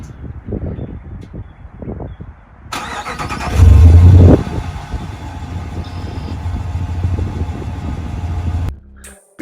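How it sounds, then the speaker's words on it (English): A Dodge Ram 1500 Laramie pickup truck cranks and fires up with a loud, close starter whir and surge, then settles into a steady low idle under faint background hiss, cutting off near the end. "Here's a look at the key fob and a quick startup."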